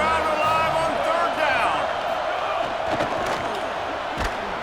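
A stadium crowd in the College Football 27 game at an Ohio State versus Oregon matchup sends up a steady, roaring wall of noise, loud and continuous, with an announcer talking over it.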